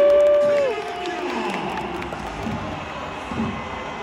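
A stadium crowd at a Korea versus Paraguay football match applauds and cheers in a steady, broad roar, after a short tonal whistle-like sound at the start.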